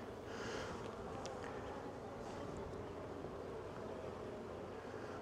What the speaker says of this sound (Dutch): Ik zie al veel bijen met stuifmeel lopen.